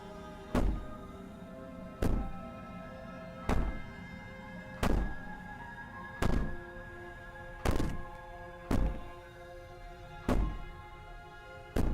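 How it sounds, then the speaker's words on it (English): Repeated heavy banging on a wall in a horror video game, eight loud thuds at a steady rhythm of roughly one every one and a half seconds, each ringing briefly over a low sustained background drone, with no talking. "Maybe the banging and wailing will stop if you just don't pay attention to it."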